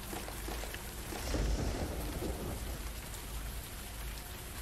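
Steady rain in the video game Zed Zone pours down in a continuous hiss, with a low rumble of thunder swelling briefly in the middle.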